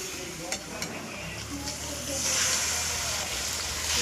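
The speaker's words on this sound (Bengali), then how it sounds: "এবার আমি পরিমাণ মতো জল দিয়ে দেব।" Water goes into fried chicken masala in a pan, and the steady sizzle and stirring swell into a louder, broader hiss partway through.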